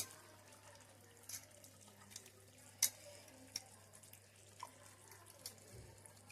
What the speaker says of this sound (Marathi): मिक्सरचा भांडा मी धुवून घेतोय